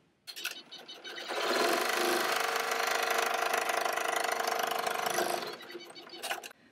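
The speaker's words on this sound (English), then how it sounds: "And then we're going to stitch that down." A sewing machine stitches down fabric on a homemade face mask, one steady continuous run of needle chatter lasting several seconds, with a few short bursts at the start and end, close and with no voices.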